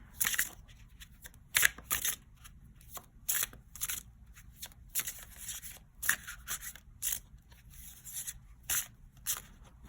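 Tarot cards shuffled by hand in a string of quick riffling bursts and soft flicks, close and crisp, with short pauses between handfuls and no talking.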